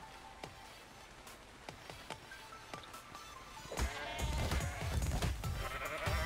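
Sheep in the survival game ARK bleat in a quiet scene with scattered clicks, and the bleating grows louder and more continuous near the end.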